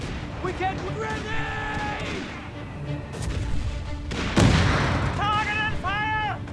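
Artillery and gunfire boom through a Company of Heroes 3 battle, with a heavy blast near the middle and repeated firing under game voice lines and music.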